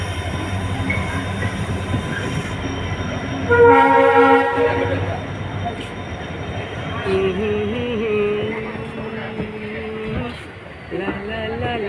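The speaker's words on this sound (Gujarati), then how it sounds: "અમારી ટ્રેન આ છે." A passenger train on the Keshod to Rajkot line rumbles past close by, sounding a long horn blast partway through and a second, lower sustained horn later, over continuous wheel and carriage noise, with faint voices in the background.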